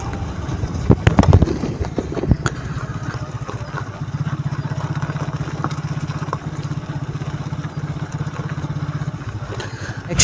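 A Hero Honda Glamour 125cc motorcycle ridden off-road, its engine sounding as a steady low drone after a few clattering knocks, running continuously for several seconds at moderate loudness.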